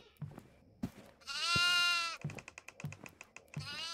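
Goats bleat several times in the horror video game Devour, one long wavering bleat standing out among shorter calls, with soft clicks and thumps around them and no speech.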